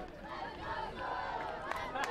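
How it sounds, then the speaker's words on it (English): Spectators at a professional ultimate frisbee game between the Raleigh Flyers and Austin Sol chant for Austin, the rhythmic crowd voices faint and distant beneath a general arena murmur. "We hear a "Let's Go Soul" chant from the crowd."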